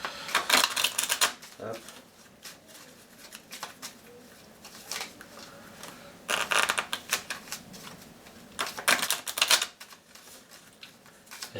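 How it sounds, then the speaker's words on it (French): Keyforge game cards are shuffled by hand in repeated quick riffling bursts separated by short pauses, close and fairly quiet, while someone talks in French and says a brief word over the shuffling. "On va essayer de mélanger correctement"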